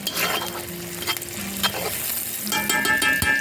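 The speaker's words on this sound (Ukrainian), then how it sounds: "цибулька наша підсмажилася" Chopped onions frying in a pan while being stirred, a loud steady sizzle broken by clinks and scrapes of the utensil, close up and with no talking.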